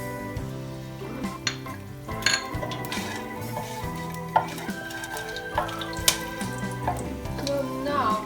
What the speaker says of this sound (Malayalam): എല്ലാ സ്പൈസസും ചേർത്ത് കൊടുക്കാം.